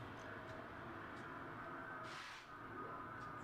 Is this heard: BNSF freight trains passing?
yes